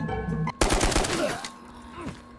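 Gunfire in the VR video game Ghosts of Tabor: a sudden, loud, sharp burst of several rapid shots that rings out and decays, following a quieter stretch.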